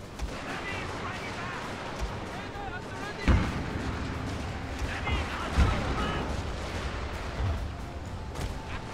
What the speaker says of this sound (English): Secondary cannon over here.